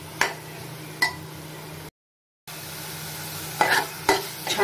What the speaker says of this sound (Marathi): बारीक गॅसवर थोडंसं आपण त्याला हलवत राहूया, एक 2 ते 3 मिनिटं